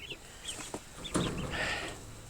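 Young chickens near a chicken tractor give a handful of short, soft clucks and chirps at irregular intervals, close by and unaccompanied by speech.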